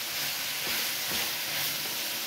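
Broccoli and cauliflower sizzle steadily in a hot pan after caramelizing, a continuous close hiss of frying with faint stirring movement throughout, no voices.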